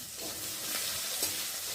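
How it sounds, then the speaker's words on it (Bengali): Onion and green chillies frying in a pan, a steady broadband sizzle with faint stirring scrapes, close and continuous for under two seconds. "পেঁয়াজটা একটু ভালো করে ভেজে নরম করে নেব।"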